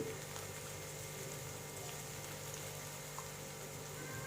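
Curry leaves sauté in hot oil with softened onions for a Kerala tomato and drumstick curry, giving a steady, even sizzle and crackle that runs the whole time at a moderate level, with no talking.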